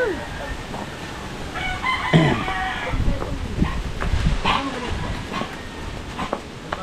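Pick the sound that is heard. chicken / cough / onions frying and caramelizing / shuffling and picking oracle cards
chicken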